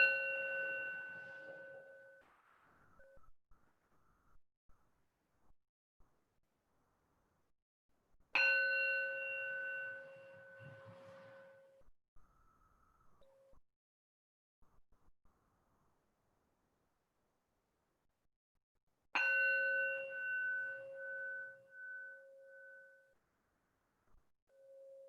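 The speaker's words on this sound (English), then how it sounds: "Hearing the bell." A meditation bell rings three times, each a clear struck tone with a long, slowly decaying ring, spaced about ten seconds apart in an otherwise quiet room.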